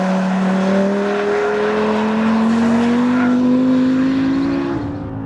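Audi R8 V10 Plus from 2014 revving hard on a race track, a loud, close engine note climbing steadily in pitch through a long pull before easing off at the end.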